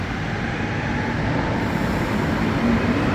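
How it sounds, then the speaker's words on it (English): A Montreal Orange Line metro train pulls out of Côte-Vertu station, filling the space with a steady, loud rumble and broadband roar that holds without a break. "So there goes this train departing, and now this one's going to go as well."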